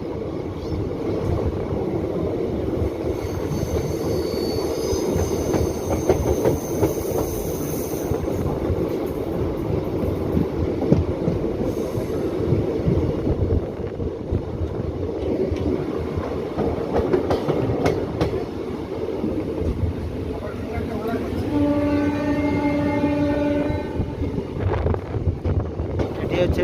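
Digha Asansol Express rolling along the rails, heard from on board: a continuous, loud rumble with rhythmic clickety-clack and wind noise throughout, and a brief tonal whine near the end.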